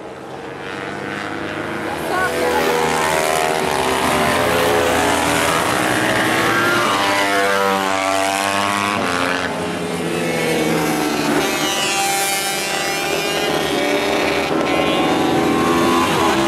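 Racing motorcycles tear past on a circuit with a technical section of corners, their engines rising and falling in loud, continuous high-revving whines that sweep nearer and away repeatedly while a commentator talks over them.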